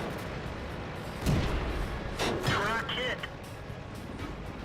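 A tank cannon blast in World of Tanks booms once, then again, over a steady engine rumble, with quieter hits and game effects following. A voice talks through the clip.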